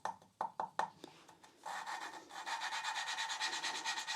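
A valve is lapped with fine grinding paste in a Mini Cooper cylinder head, first as a few separate scrapes and then as a quiet, steady back-and-forth gritty rubbing, faint and close with no voices.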